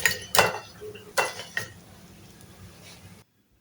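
Crispy, golden bakery-style fried samosas are handled on a plate, giving a few sharp crunchy clinks and taps in quick bursts near the start, then quieter rustling before the sound cuts off.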